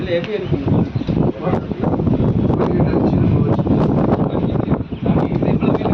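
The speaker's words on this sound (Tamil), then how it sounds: "காற்று பயங்கரமாக வீசு" Strong wind at a temple in Thiru Utharakosamangai buffets the microphone in heavy, continuous gusts, roaring and rumbling with brief rustling bursts.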